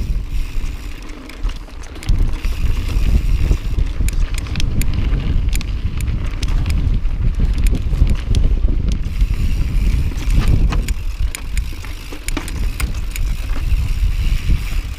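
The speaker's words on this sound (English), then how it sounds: "It's pretty breezy. Very breezy." Strong, breezy wind buffets the microphone at the top of a mountain bike trail, a loud continuous roar with gusty swells and no talk.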